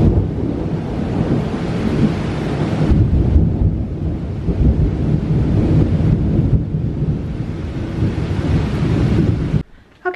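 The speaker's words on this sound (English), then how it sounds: "This storm is coming quick and it is starting to really rain now." A summer thunderstorm outside a porch, with heavy rain roaring in a loud, dense wash, low rumbling of thunder and gusty wind buffeting the microphone, continuous until a sudden drop near the end.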